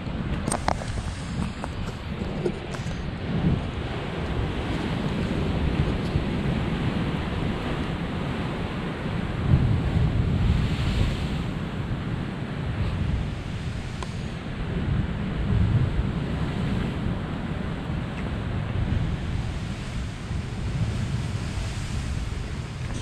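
Rough sea waves crash and surge in a loud, unbroken wash of surf, with steady wind buffeting the microphone throughout and no voices.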